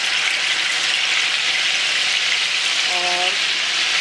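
Peeled tomatoes go back into reused oil in a karahi and fry with a steady, dense sizzle that holds at an even loudness throughout, close to the pan.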